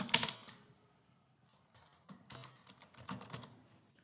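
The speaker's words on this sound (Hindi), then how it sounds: "यहाँ पे मैं टाइप करूँगा डेटा क्लीन।" Bursts of typing on a computer keyboard while entering text into an Excel shape, clustered key clicks near the start and again in the second half, fairly close and clear with no talking.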